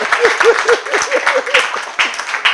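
A church congregation claps and cheers in praise. Quick, rhythmic bursts of clapping mix with short, loud shouted cries from many voices.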